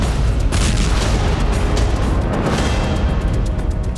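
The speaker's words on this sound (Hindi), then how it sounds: "एक जोरदार धमाका हुआ" A loud explosion in Crimea, heard as a sustained heavy rumbling boom filling the whole stretch, dense and close with a sharp burst early on, no voices.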